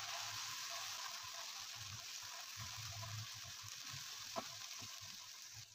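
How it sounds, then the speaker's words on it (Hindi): Ginger garlic paste with green chili fries slowly in oil over a low flame, giving a steady soft sizzle and hiss throughout, with faint low stirring knocks and one brief clink near the end. "हम अदरक लहसुन की बुनाई जो है वो बिल्कुल लो फ्लेम पे करेंगे 2 मिनट के लिए"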